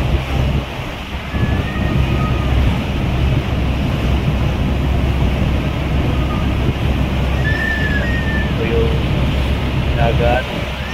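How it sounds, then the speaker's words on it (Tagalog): Sea waves and steady wind roar along a coast near Allen, Samar. A constant broadband rush with wind buffeting the microphone continues throughout, and brief faint voices sound over it. "Dagat."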